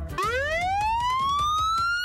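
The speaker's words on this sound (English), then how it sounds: "Gus, do you hear that? It's a siren." A fire truck siren wails upward in a rising sweep, loud and close, sustained throughout with bright harmonic tones and no talking.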